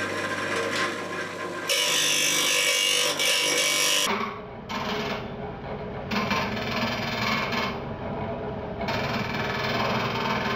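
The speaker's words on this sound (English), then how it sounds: "I think I'll try with the grinder first." A bench grinder works a screwdriver tip, a loud continuous mechanical whir with bursts of harsher grinding as the steel is pressed in and pulled away several times.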